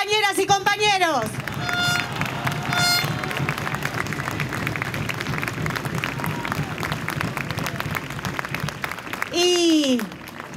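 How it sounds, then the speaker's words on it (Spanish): Crowd at a campaign closing rally of Argentina's left front claps and cheers in a broad, sustained roar, with chanting voices rising at the start and again near the end. "un aplauso para ustedes, compañeras y compañeros."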